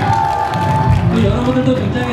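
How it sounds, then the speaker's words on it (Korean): An indoor audience at a live interview event cheers and applauds in a steady, dense crowd roar that fills the space without pause. "박수 한번 쳐주시죠"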